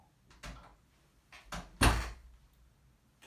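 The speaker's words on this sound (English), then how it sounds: "Can close the closet door." A closet door is handled, with a few soft knocks, then a firm thud as it shuts, followed by a lighter click. The sounds are close and there is no talk.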